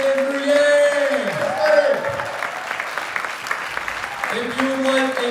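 A crowd applauds for presidential candidate Andrew Yang at a town hall in a university auditorium, steady clapping and cheering with tonal music or voices carrying through it.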